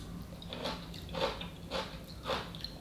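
Crunchy kimchi chewed close to the mouth, four evenly spaced crisp bites in a steady rhythm, fairly quiet with no talking.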